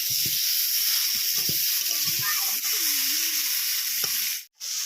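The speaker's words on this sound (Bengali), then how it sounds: "এবারে আমরা মশলার টমেটোগুলো ভালো করে কষিয়ে নেব" Tomatoes with spices, salt and turmeric sizzle steadily while being sautéed for a tomato fish curry, with occasional spatula scrapes and stirring knocks over the continuous hiss, ending in a brief gap.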